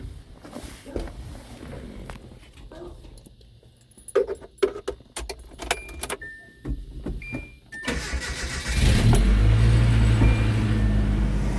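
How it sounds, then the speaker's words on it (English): A Nissan D21 Hardbody 4-cylinder, just retimed, is started. Keys jangle and click in the ignition, the starter cranks briefly, and the engine catches and settles into a steady, close idle. "motor is running so smooth, very quiet"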